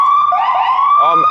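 A police siren wails loudly nearby in Ashmont, its pitch sweeping up and down continuously across the short moment.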